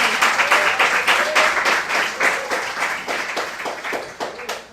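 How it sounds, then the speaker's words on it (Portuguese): A church congregation claps loudly and continuously, a dense rhythmic applause that stays steady before slowly thinning toward the end. "Você pode aplaudir ao Senhor com o seu melhor?"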